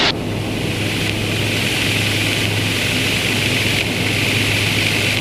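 Evektor Sportstar RTC light aircraft engine at takeoff power, flying in formation: a steady, loud, continuous propeller-engine drone with a constant low hum and broadband wind roar, no talk.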